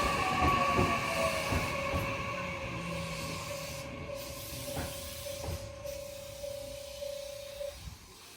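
A train rumbles and clatters past at Kii-Arita Station in Japan, a steady squealing tone running underneath, with occasional metallic clunks before it fades.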